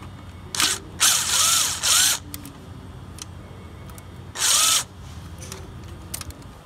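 A power drill or driver runs in several short bursts, removing the 5.5 mm screw on the airbox tube clamp of an Acura RDX during valve cover gasket work; loud whirring spurts with quiet gaps between, no talking.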